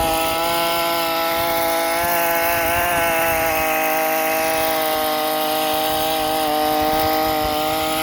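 A small 25cc two-stroke Ryobi garden cultivator engine drones steadily close by while tilling garden soil, a buzzing, constant whine with slight changes in load as it churns soil.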